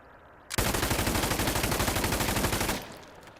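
An M249 light machine gun in Insurgency: Sandstorm fires a single sustained burst of rapid, evenly spaced shots lasting about two seconds, loud and close, then cuts off into a brief fading echo.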